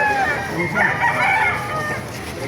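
A white Kelso rooster crows loudly and close by at a chicken market in Baliuag, Bulacan, with one drawn-out, warbling call filling the moment.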